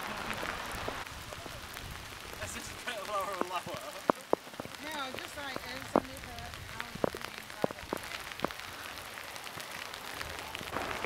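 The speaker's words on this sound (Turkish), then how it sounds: "Maalesef yağmur başladı." Steady rain falls outdoors in Scotland near the Kelpies horse sculptures, a dense even hiss with scattered sharper drop hits and faint chirping sounds mixed in, continuing throughout at low volume.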